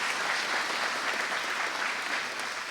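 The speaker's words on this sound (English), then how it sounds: "You can give them a round of applause" An audience at an elementary school dedication ceremony gives a round of applause, a thick, continuous patter of many hands clapping at steady volume throughout.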